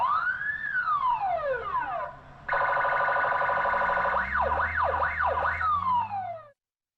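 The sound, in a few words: municipal guard alarm siren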